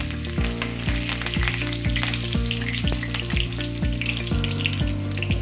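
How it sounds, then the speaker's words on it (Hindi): Curry leaves dropped into hot oil crackle and sizzle loudly up close, a dense spitting hiss over a steady low hum with regular rhythmic thumps beneath, continuing unbroken with no speech. "तेल गरम हो चुकी है तो यहाँ डाल दूंगी कड़ी पत्ता।"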